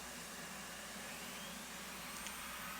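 An F/A-18 jet engine spinning up in a flight-simulator game, a steady broadband whooshing roar with a faint whine, even in level and fairly quiet throughout.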